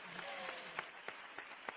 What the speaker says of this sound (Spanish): Fuerte aplauso también, por favor.